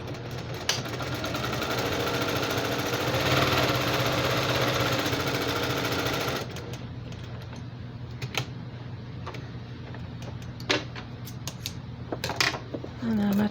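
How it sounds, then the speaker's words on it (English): A sewing machine runs steadily, stitching a quarter-inch seam down the sides of a quilted basket lining, then stops and leaves scattered clicks and handling noises. "I'm going to sew a 1/4 inch seam"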